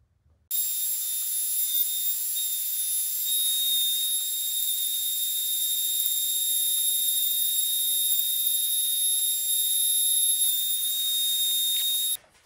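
Router cutting a guitar neck on a copy jig with a motorized rotation, a loud high-pitched steady whine starting suddenly and holding for about eleven seconds before cutting off, with no talking.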